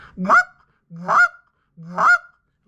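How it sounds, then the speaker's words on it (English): Canada goose cluck blown on a short reed goose call, three sharp, evenly spaced honking clucks, loud and close with no other sound between them. "I make the cluck"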